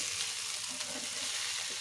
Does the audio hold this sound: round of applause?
no